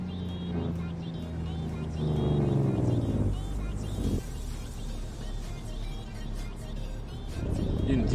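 A truck engine in Euro Truck Simulator 2 drones and revs, its pitch climbing and dropping in several sweeps as it pulls away and shifts, moderately loud and steady throughout.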